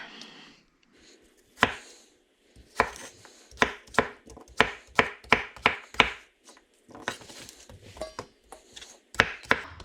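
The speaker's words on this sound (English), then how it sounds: "These are a little fiddly to cut up compared to a zucchini just because the size is a little odd." Eggplant and summer squash being cut into bite-sized pieces on a cutting board, a series of sharp, close knife chops, some in quick runs of several strokes and some isolated, with brief pauses between, no talking.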